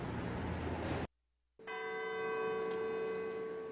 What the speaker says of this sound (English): Bells marking the hour